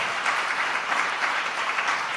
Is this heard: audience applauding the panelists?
yes